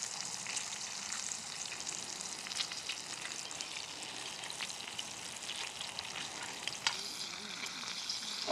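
Lamb sizzles in a pan outdoors, a steady close crackling hiss with small pops that runs without a break and with no talking.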